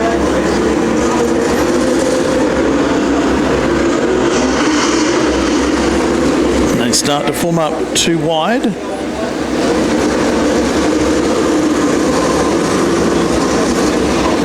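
Classic late model race cars roar past on a speedway track behind a pace car, a loud rush of engines swelling and fading over steady crowd and track noise, with an announcer talking throughout.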